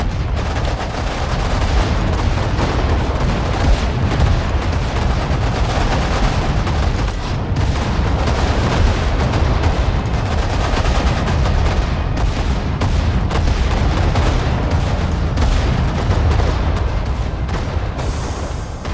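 Dense battlefield combat in the WWII strategy game Sudden Strike 4: continuous rapid gunfire and machine-gun bursts mixed with heavy artillery booms, loud and unbroken for the whole stretch, no voices.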